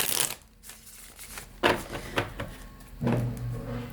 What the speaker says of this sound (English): Sometimes the cards will shuffle kind of choppy